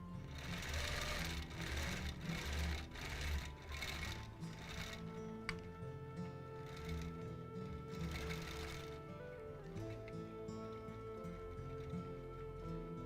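A sewing machine stitches steadily during free-motion quilting of a custom mountain-themed quilt, its rapid needle hum running close and continuous throughout, with brief pauses and shifts in speed but no talking.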